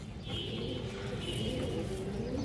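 Pigeons cooing in a loft or market setting among birds kept for sale, a steady low murmur of coos with faint chirps layered over continuous background noise.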